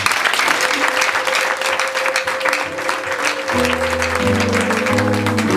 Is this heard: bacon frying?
no